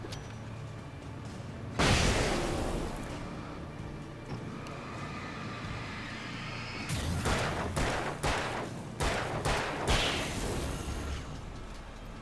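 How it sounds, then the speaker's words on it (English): A flashbang in the action game Alan Wake goes off with a sharp, loud burst, followed several seconds later by a quick series of gunshots cracking in close succession. "Ooh, flashbang me up, baby."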